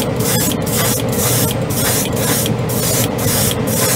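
Airbrush spraying Mr. Hobby aqueous primer onto a white spoon through a small needle, a steady close hiss of air and paint running continuously with slight pulsing, no talking.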